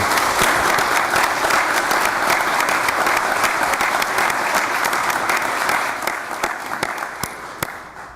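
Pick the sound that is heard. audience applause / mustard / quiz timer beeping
audience applause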